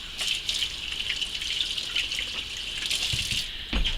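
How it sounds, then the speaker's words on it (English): Water runs steadily from a kitchen tap as a hand is rinsed beneath it, a close continuous hiss with small splashing shifts and a brief clunk near the end. "let me rinse my hand off real quick"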